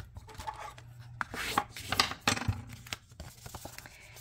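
Petal Pink cardstock card base being folded in half, with soft papery rustles, a crisp crease and a few quiet sliding and pressing sounds at close range.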